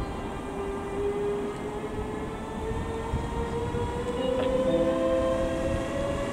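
A train pulls into Bochum main station, its rumbling wheels and a rising drone steady under platform ambience, with a brief tonal squeal or horn-like sound near the end, moderately loud and close.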